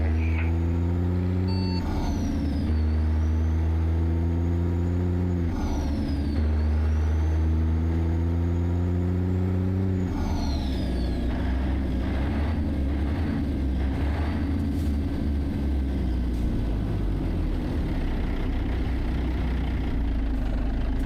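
Low diesel rumble of a Peterbilt 362 Cabover truck engine in American Truck Simulator, steady and loud through the whole stretch, with gear changes and shifts in pitch as it idles and pulls away.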